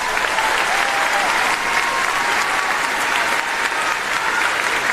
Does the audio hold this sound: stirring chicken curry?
no